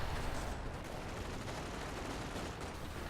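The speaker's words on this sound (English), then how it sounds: "MG nest in the back, shooting at long range" A machine gun nest in a video game firing at long range, a dense continuous rattle of automatic fire that fills the whole stretch at a constant level.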